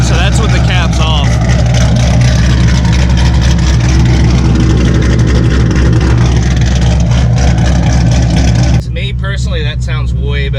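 A Camaro engine with exhaust cutout caps removed, revving loud and deep close by, a sustained roar that drops near the end as a voice begins talking over the idle.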